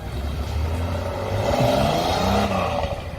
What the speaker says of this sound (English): Driving my Lambo.